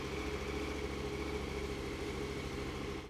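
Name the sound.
KTM 1290 Adventure R motorcycle engine starting and idling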